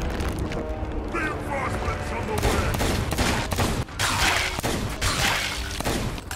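Rapid bursts of gunfire from a Sea of Thieves pirate game session, dense and loud throughout, with excited voices talking over the shooting.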